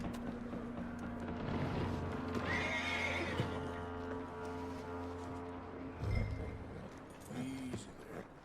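A horse in the video game Red Dead Redemption 2 gives a clear whinny, followed by hoof clip-clops and a shorter snort later, with faint game ambience around it.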